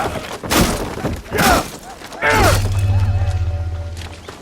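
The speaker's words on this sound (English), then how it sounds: "Smashing a few crates should get his attention." Wooden crates being smashed in Assassin's Creed Shadows: three sharp breaking crashes come in quick succession, each loud and abrupt, then a low steady hum carries on to the end.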